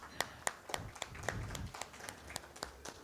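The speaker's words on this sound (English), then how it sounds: "A warm round of applause." A handful of people clap for panelists at a media conference. The claps are distinct and fairly regular, some overlapping, and sound moderately close in a quiet hall.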